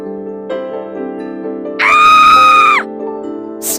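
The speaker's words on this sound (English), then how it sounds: "Scream." A loud human scream, a sustained harmonic shriek of about a second rising sharply above a steady musical background, heard alone without talk.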